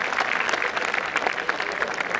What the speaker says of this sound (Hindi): बहुत बहुत शुक्रिया, आप सबने तालियां बजाई